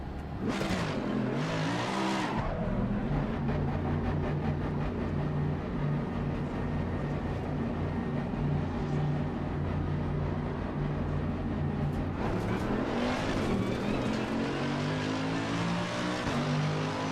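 A Mercedes-AMG race car in the Assetto Corsa Competizione racing game, its engine revving up in bursts and then holding a steady droning tone at speed before climbing again, loud and without talk.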